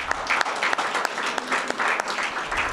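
An audience at a career expo claps for Robinvale High School, sustained applause from a crowd that swells and holds loud and close.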